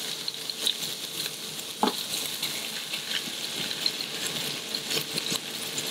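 Turbot pan-frying in clarified butter with garlic and bay leaf in a restaurant kitchen, a soft bubbling sizzle with light spatters and a brief clatter, close and quiet, no talking.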